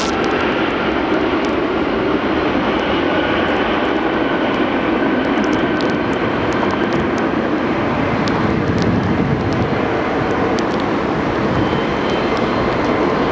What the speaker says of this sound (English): heading to Pensacola, finally taking off